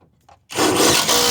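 A self-tapping screw bites into the mounting bracket of a swing-out toolbox in a Ford truck bed, with a sudden loud, grinding power-driver whir that starts after a brief quiet moment and runs steadily to the end.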